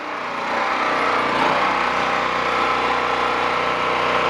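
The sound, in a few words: small engine surging under drill press load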